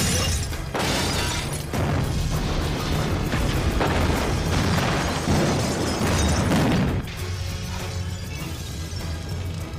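A bomb blast in a crime drama lands as a long, loud roaring crash with crackling debris. It fades into a lower rumble near the end, with no speech.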